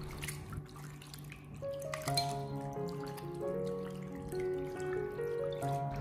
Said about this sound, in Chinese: 然后在碗里面添加满清水，将鱼片给它清洗一下，用手给它轻轻的抓拌2分钟